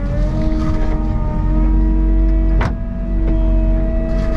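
A skid steer with a forestry cutting head clears land, its engine and mulcher drone running steady and loud throughout, with a sharp crack of debris striking near the middle.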